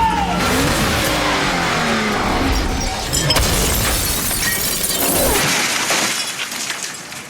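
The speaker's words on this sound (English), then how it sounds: "He drove off the roof" A car drives off a rooftop during a film stunt, a loud sustained rush of engine and impact noise with shattering, crashing debris throughout, fading toward the end.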